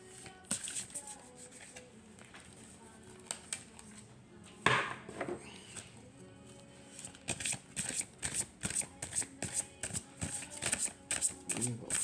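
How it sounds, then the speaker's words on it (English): Oracle cards pulled from a deck and shuffled, giving a string of crisp papery riffles and flicks in uneven bursts, close and fairly quiet, with one sharper snap midway and a busier run of shuffling toward the end. "So I am going to pull a couple of these cards here."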